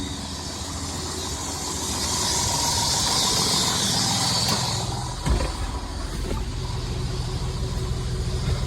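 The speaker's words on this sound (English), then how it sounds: "So I'll just put the macerator running." A slurry pump macerator drones steadily throughout, with a low rumble and broadband whir that swells slightly after the start and holds constant, with a brief clunk midway.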